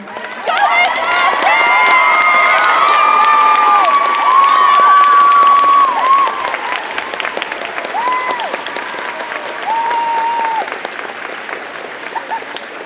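Sustained audience applause in a school auditorium at a regional middle school choir concert, honouring the choral directors and voice teachers; broad, loud clapping with some cheering, while sung or spoken tones ride over it.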